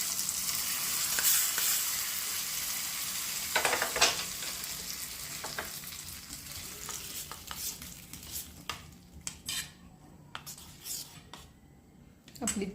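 A spoon stirs curd chutney in a pan with half a spoon of red chutney added, giving a sizzling, scraping sound that starts loud and thins out, with sharp clicks of the utensil toward the end.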